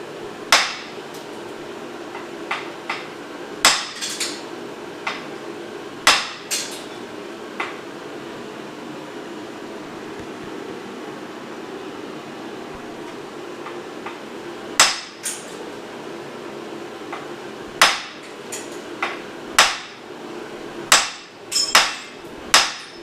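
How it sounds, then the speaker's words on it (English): A hammer striking a 1957 car frame in a shop, a dozen or so sharp metallic clanks scattered irregularly, some single and some in quick pairs, ringing loudly over a low steady background hum. "I'm a little scared to hit that with a hammer."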